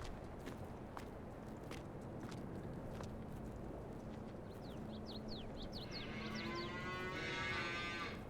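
Cattle in Farming Simulator 22 give several moos against a steady farm background, with light footsteps and faint bird chirps toward the end.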